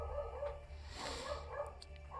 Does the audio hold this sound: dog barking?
yes